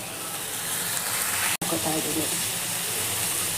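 Broccoli drops into a hot pan for a vegetable pepper fry and sets off a steady close sizzle, with a brief break partway and continued frying hiss afterward.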